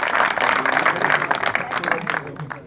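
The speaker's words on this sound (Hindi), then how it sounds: "बार जोरदार तालियों से आप उनका स्वागत करिए" An audience gives lively, dense applause to welcome Delhi Chief Minister Arvind Kejriwal, with many hands clapping at once before the sound tapers off.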